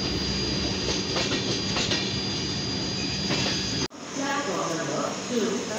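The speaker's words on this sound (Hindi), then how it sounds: "हमारे सामने से जो है ट्रेन निकल रही है LHB कोचेस के साथ" Indian Railways train with LHB coaches passing close by near Jhansi, a loud continuous rumble and rattle of wheels on rails that cuts off abruptly near the end, leaving quieter ambient noise.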